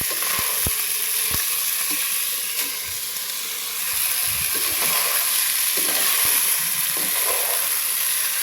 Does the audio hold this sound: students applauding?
no